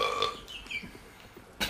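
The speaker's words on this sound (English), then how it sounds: "And here we have the World Championships of Creative Burping." Creative burps from a comic burping championship in a game, a couple of loud throaty belches separated by quieter gurgling and a short final burst, with no talk.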